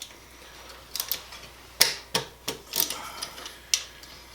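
Ratcheting clicks from a wrench loosening the two 8mm bolts on the oil filter cover of a Honda XR 250R dirt bike, sharp close taps in short irregular bursts with brief pauses between.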